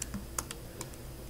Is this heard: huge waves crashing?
no